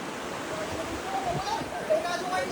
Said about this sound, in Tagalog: Nagpakawalan yung dam ng tubig, mga master.